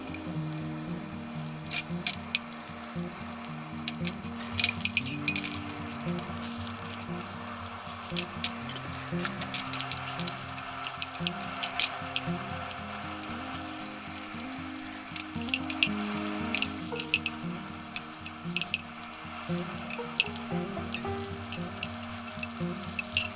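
Hamburger patties frying in a hot pan, pressed down with a flipper: a steady close sizzle throughout, with scattered crackles and pops, no talking.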